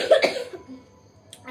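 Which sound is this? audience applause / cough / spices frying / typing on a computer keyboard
cough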